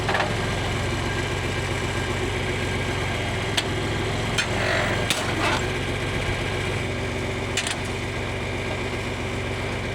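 An old John Deere 4020 tractor engine runs rough after being started with starter fluid, giving a steady, loud, close diesel rumble with a few faint knocks and clicks on top and no talk.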